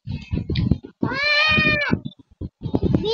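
A cat meowing in the Toca Boca video game, a drawn-out, loud, tonal meow standing out between stretches of people talking close by.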